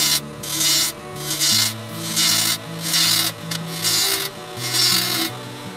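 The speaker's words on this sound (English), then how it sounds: "I'm going to use the bowl gouge to actually form and cut that tenon." Bowl gouge cutting a tenon on a wooden bowl spinning on a lathe, rhythmic scraping rasps in roughly six regular strokes, close and steady with no talk.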